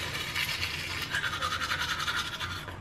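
Toothbrush scrubbing teeth in a morning routine: steady, close, bristly scratching strokes in a quick back-and-forth rhythm that runs continuously over music.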